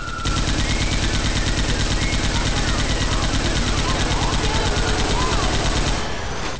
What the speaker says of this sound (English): shoot the Chucky, shoot the Chucky